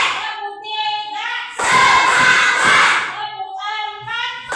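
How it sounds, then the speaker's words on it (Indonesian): A class of children claps their hands together in a short burst of rhythmic beats, set between stretches of a teacher's voice before and after. "Dengan tepuk tangan."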